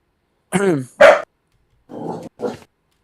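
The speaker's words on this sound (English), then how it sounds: "that's my dog" A pet dog barks and yelps twice up close, followed by two quieter, muffled barks after a short pause.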